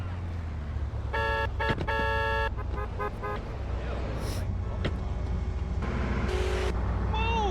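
Car traffic in GTA San Andreas on mobile, with a repeated car horn honking in short bursts over steady engine rumble, plus scattered clicks and game effects, with someone talking in Malayalam at times.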